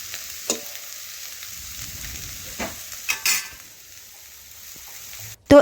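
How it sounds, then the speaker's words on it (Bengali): Bitter gourd and potatoes fry in a kadai with a low, steady sizzle, broken by a few scraping stirs and metallic clinks, ending in a brief loud knock. "এইভাবে বিছিয়ে দিচ্ছি আর ঢাকা দেব না অনেকটাই উচ্ছে আলু সেদ্ধ হয়ে গেছে এখন ভাজতে ভাজতে যেটুকু বাকি আছে সেদ্ধ হয়ে যাবে"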